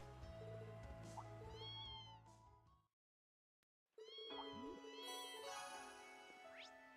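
Cat meowing in the video game Trails of Cold Steel II, heard as several clear, close meows over light game music and chimes. A brief silence falls midway, then the mews resume.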